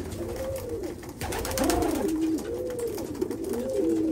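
Pigeons in a loft coo in repeated rolling, throaty phrases, several birds overlapping close by over a steady background murmur, with no talking.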